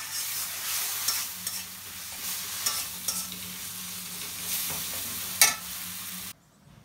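Curry masala with red chili is sautéed and stirred in a pan, giving a steady sizzle broken by repeated scraping and stirring strokes and one sharp clink, before the sound cuts off suddenly.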